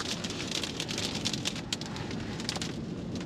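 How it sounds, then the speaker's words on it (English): Strong wind gusting across an exposed hilltop beside the Caradon TV mast, a loud, steady roar and rumble with buffeting bursts, no voices. "it's absolutely blowing a hoolie"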